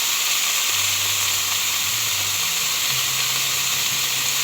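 Chayote goes into a hot wok for pancit habhab, and a loud, steady sizzle of frying fills the whole stretch with a continuous hiss.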